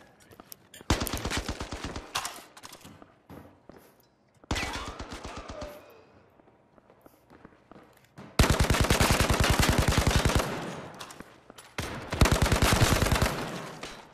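Rapid automatic gunfire in a VR airsoft shooting game, several long loud bursts of fast repeated shots separated by short quieter gaps with faint background noise.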